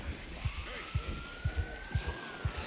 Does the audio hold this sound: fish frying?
no